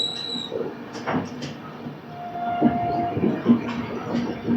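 The Gautami Express stands at Lingampally railway station with continuous rail and carriage rumble, a few clanks, and a faint horn-like tone in the middle.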